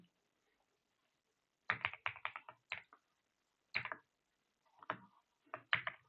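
Bursts of typing on a computer keyboard while entering C++ code, quick clustered key clicks separated by short pauses, close and fairly quiet with no talking.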